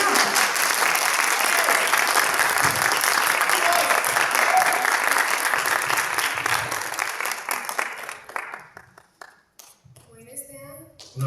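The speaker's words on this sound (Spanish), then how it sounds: "Un fuerte aplauso." A crowd at a book presentation gives loud, sustained applause that fills the room for about eight seconds, then thins out to scattered claps and quiet, with a voice briefly heard near the end.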